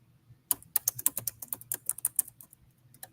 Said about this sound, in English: and I'm typing this